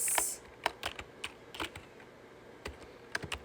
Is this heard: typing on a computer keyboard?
yes